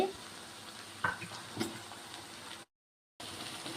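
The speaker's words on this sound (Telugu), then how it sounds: "ఇప్పుడు అల్లం వెల్లుల్లి కొంచెం ఫ్రై అయింది కదండి ఇప్పుడు దీంట్లో ఒక టమాటా మీడియం సైజ్ టమాటా వేసుకుంటున్నానండి" A medium-sized tomato sizzles and fries in a pan with ginger-garlic paste for a prawn curry, a steady close sizzle with a few stirring clinks and a brief cut to silence.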